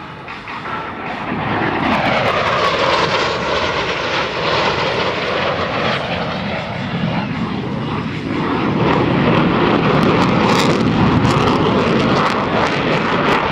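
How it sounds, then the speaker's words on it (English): US Navy Blue Angels jet aircraft flying a hesitation roll at an air show in Peoria, a loud sustained engine roar that sweeps in pitch as the jets pass, constant throughout. "Approaching center point, they will roll their aircraft 360 degrees, pausing after each 90 degrees of roll, crossing center point in the inverted position"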